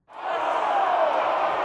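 A canned crowd sound effect fired from a soundboard button: a sudden loud roar of many voices that swells in and holds steady for under two seconds.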